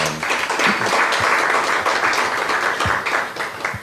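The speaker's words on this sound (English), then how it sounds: "let us give the panel another round of applause" Conference attendees give a panel a round of applause, a loud burst of many hands clapping close and fairly dense, with individual claps audible and a slight fade toward the end.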